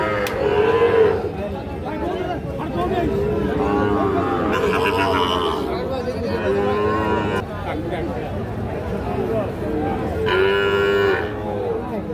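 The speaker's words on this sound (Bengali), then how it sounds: "শাহিওয়াল ষাঁড় বাছুর" Young Sahiwal bull calves moo repeatedly at a busy cattle market, drawn-out calls rising and falling over a crowd's babble and nearby chatter.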